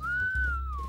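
A cartoon dog gives a single smooth, sustained whistle that glides up slightly and then falls away, loud and alone for under a second.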